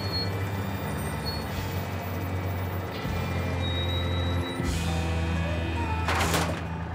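A heavy truck's air handbrake worked in the Australian Outback while loaded with a 3-ton vehicle: bursts of hissing air over a steady low engine rumble, with a loud sharp hiss near the end.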